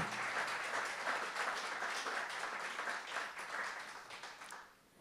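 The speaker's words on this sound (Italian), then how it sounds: "facciamo un applauso a Sammy" A crowd applauds for Sammy, a young boy, with sustained clapping that holds steady and then fades out toward the end, no talk over it.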